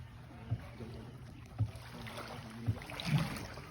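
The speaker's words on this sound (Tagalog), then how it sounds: "ayun na yung bangka. Dumating." A small boat moves on the water with regular knocking or paddle-like thumps about once a second, over faint wind and watery background.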